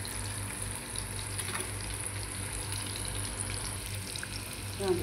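Green chilli bajji fritters frying in hot oil, giving a steady, close sizzle that runs throughout, with a brief louder bubbling burst near the end.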